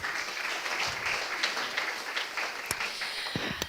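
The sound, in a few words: audience applause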